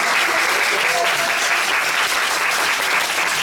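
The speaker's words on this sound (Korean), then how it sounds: "다시 한번 오늘의 마지막 공연을 한 우리 네 배우님들에게 큰 박수 한번 부탁드립니다" Steady, dense applause from a large theater audience after the final performance of a musical, loud and continuous throughout with no breaks.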